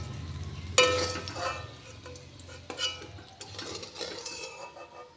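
Fried bitter gourd scooped out of a pan into a bowl with a utensil, a sharp scrape at the start followed by repeated clinks and stirring scrapes against the pan, fairly close with no talking.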